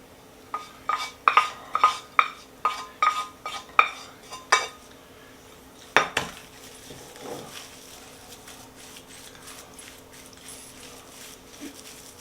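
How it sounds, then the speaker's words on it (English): A spoon knocks and scrapes against a bowl in a quick series of close clinks as sauteed onions in butter are mixed into mashed potatoes, then the clatter thins out to a few faint sounds. "Now I am going to mix it into the mashed potatoes."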